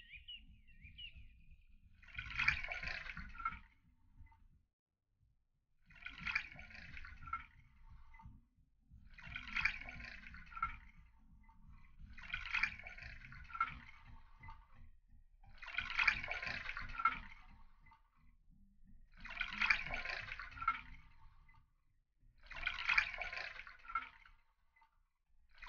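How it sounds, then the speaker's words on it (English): Juice is poured from a measuring jug into a container in seven separate pours, each a soft, brief trickle and splash separated by quiet pauses, faint and close. "All you have to do is pour juice 10 times into the measuring jug."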